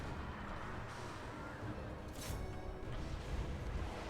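A missile monster unit fires in the strategy game Total War: Warhammer II, its heavy boom-like blasts rumbling low and muffled within a continuous roar of battle noise, with one sharper burst standing out midway.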